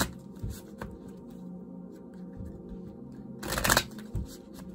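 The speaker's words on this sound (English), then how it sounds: "Three more shuffles." Soft riffling and flicking of tarot cards being shuffled, with a louder, brisk burst of shuffling near the end.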